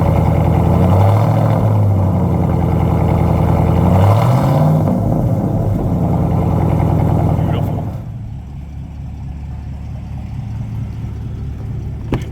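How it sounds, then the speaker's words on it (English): A 2021 Chevy Silverado 1500 LT Trail Boss with an aftermarket Master Flow exhaust rumbles loudly up close, with a couple of revs early on before settling to a quieter, steady idle. "And this has an aftermarket Master Flow exhaust"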